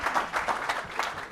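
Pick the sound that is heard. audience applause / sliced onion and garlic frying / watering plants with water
audience applause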